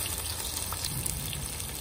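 Onion frying in oil for Uzbek plov, a continuous close sizzling hiss with small bursts, steady throughout the short stretch and without talk.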